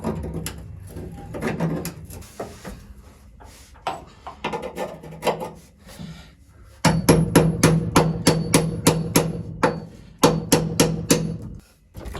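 Hammer blows on a center punch while working on rusted floor pans of a classic car, first scattered taps and clatter, then a rapid series of sharp, loud metallic strikes in the second half.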